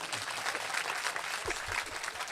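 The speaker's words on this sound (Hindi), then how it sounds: "नदीम फारूक के लिए एक बार तालियां बजाइए।" Mushaira audience applauding poet Nadeem Farooq at a Fatehpur Mela gathering in Barabanki, with steady, dense clapping that stays fairly level for the whole stretch.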